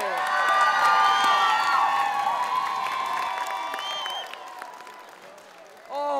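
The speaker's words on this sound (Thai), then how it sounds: "ขอเสียงปรบมือให้กับทั้ง6โชว์ด้วย" An audience at a children's talent show final applauds and cheers, with shouting and whoops over a bright, loud sustained wash that eases toward the end before a fresh burst.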